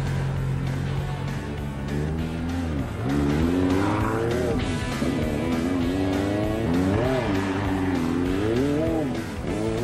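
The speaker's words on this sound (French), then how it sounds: "Vatanen survole toujours ce début de rallye avec une ZX qui prend parfois des allures de TGV" A Citroen ZX rally-raid car racing in the 1995 Granada-Dakar rally, its engine roaring loud and close, revs rising and falling through gear changes with tyre scrabble and noise throughout.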